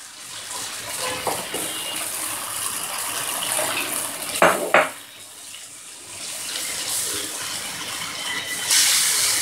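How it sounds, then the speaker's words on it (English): Water trickles and splashes into a bowl of gram flour batter as it is whisked in a home kitchen, a steady wet pour with two brief louder splashes midway and a stronger gush near the end. "as we are whisking, we can also start pouring in our water, a little at a time"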